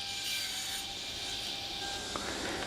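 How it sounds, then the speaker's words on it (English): Hand saw cutting wooden rails to length with a blade that needs replacing: a continuous close rasping stroke that barely pauses, dense and steady. "cutting the rails to length."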